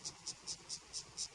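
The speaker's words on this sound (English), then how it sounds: "finally, we get to show you some cicadas" Cicadas call on an early-morning safari drive, a rapid, evenly spaced train of six sharp, high, rasping pulses, faint and slightly distant, with no voices.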